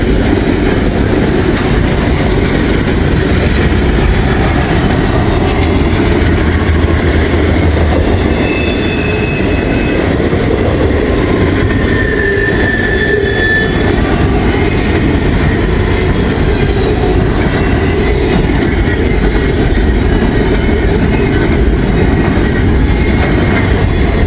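A freight train passes near Fort Gay, West Virginia, its steady loud rumble and clickety-clack of wheels continuous throughout, with brief metallic wheel squeals rising over the roar.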